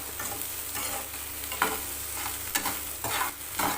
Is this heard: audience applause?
no